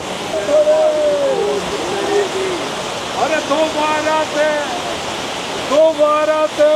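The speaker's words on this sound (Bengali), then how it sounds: "জাজিবাল থেকে ঠিক 1 কিলোমিটার এগিয়ে সেই ঝর্ণাটা" A waterfall near Chandanwari on the Amarnath route rushes in a steady roar while voices talk and chant over it throughout.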